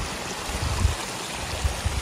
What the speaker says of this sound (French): Et d'autres endroits où ça part du coup en cascade.